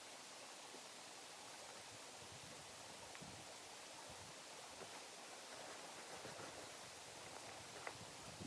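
A creek flowing near a wilderness campsite gives a steady, soft broadband rush of water, continuous and even, with occasional faint rustles.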